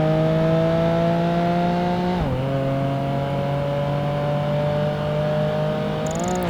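A race car in Project Gotham Racing 2 holds a loud, constant engine whine, dropping sharply in pitch once as it downshifts and rising again near the end, with no talking.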